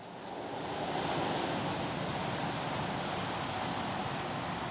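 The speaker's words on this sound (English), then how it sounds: "You can see there's a little river running down here." Small river of floodwater running through a farm field after heavy rain, heard as a steady, loud broadband rush of flowing water with some wind noise, continuous throughout and no talking.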